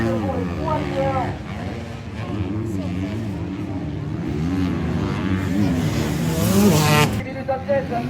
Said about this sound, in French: le numéro 162 de Mathilde Borré, il met du gaz.